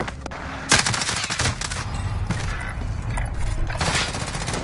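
Dense, loud automatic gunfire in a video game, with continuous rapid shots and bursts blending into a sustained clatter with booming low end, heard up close without speech.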